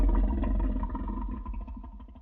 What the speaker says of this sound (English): That is my human mouth sound, which sounds really disgusting. It sort of kind of adds that wet characteristic.